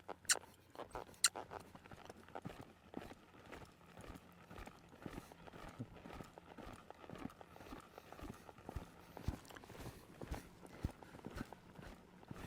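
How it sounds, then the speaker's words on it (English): Horse loping around an arena, its hoofbeats thudding in a steady, rolling three-beat rhythm throughout, moderately close, with faint background noise and no talking. "Let's lope him off this way."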